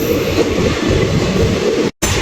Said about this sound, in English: After so many days, I got to see this passenger train, and that too with diesel locomotive.